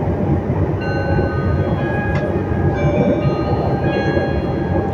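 Inside a moving Meitetsu commuter train in Japan, a steady rolling rumble and hum fills the carriage, with thin high tones drifting in and out and a brief click near the middle.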